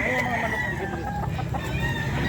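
Red Kelso gamefowl roosters crow and cluck at a busy pet market, close and loud, layered together with farmyard clamor throughout.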